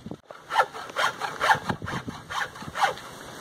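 A handsaw cuts through wood while making a sign, giving about six steady rasping strokes in an even back-and-forth rhythm, close and moderately loud, with no talking.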